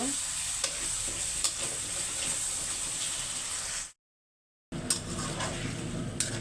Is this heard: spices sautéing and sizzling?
yes